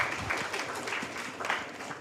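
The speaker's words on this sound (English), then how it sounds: "A round of applause for Jeannie." Audience applause during a research dissemination event in Kilifi, a steady wash of clapping held at a moderate, fairly distant level for about two seconds.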